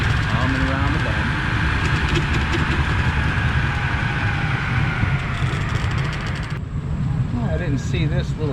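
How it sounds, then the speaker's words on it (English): Steam train at Camden Park amusement park, a steady rumbling roll with hissing steam running throughout, fairly close and continuous, with people talking over it. "Look at that steam. I hear the train a-coming. Coming around the bend."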